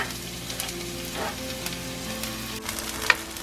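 Onions dropped into hot oil in a pan for a Kerala-style fish curry, a close, continuous crackling sizzle with scattered pops and spits.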